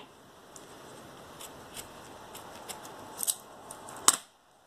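Scissors snip through crochet yarn at the end of a two-colour crochet sock, a few soft quiet snips ending in one sharp close cut, with no talking.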